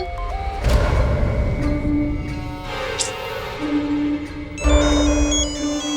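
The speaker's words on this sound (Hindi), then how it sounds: "ईरा का फोन आ रहा है।" A phone ringtone plays a repeating electronic melody over background music and a dull hum, loud and close.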